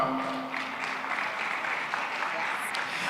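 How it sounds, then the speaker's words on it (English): Audience at a Lagos conference session clapping at a moderate level in a steady continuous patter that stays even for a few seconds and then trails off. "Please a round of applause for her."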